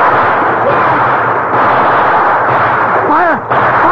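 Rapid, dense gunfire in a Civil War radio drama, a loud, sustained rattle of shots fired at an escaping man in a river, with a voice crying out over the firing near the end.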